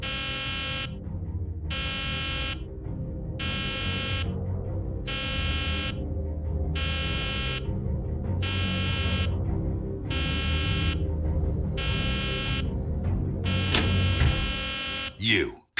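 Harsh electronic alarm buzzer from a video game, sounding in steady regular pulses for about fifteen seconds, loud and close, with game sound effects underneath.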